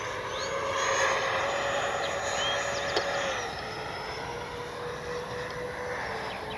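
Twin 64 mm electric ducted-fan MiG-29 model jet from Arrows RC flying overhead, a steady high-pitched whine that holds constant and fairly loud throughout with slight shifts in pitch as it passes.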